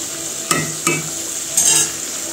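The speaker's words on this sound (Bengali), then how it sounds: "চিকেন দিয়ে এখন ভালো মতো নাড়াচাড়া করব" A pan of chicken roast being stirred over the heat, with a steady sizzle of frying underneath. Two sharp scrapes of the spoon stand out, then a brighter burst of hissing follows.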